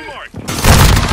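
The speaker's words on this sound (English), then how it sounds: "Russian airstrike. Find cover." Explosions from a Russian airstrike in Modern Warfare 2 multiplayer hardpoint match, a sudden loud broadband blast that swells and rumbles heavily with deep low-end boom, following a burst of game voice and tonal effects.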